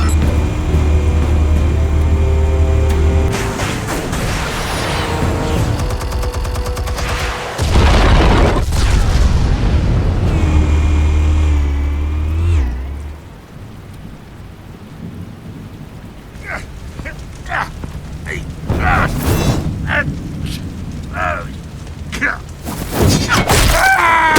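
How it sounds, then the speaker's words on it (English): Explosives detonate in the Batman: The Telltale Series game as loud, sustained rumbling booms that roll on for several seconds, then fade into quieter crackling debris and scattered sharp impacts. "Explosives armed. Fire when ready."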